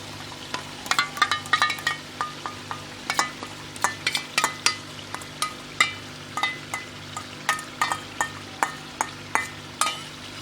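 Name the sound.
stirring vegetables with spiced yogurt in a pan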